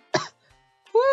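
A single short cough, followed after a brief pause by a quick vocal sound, close and clear.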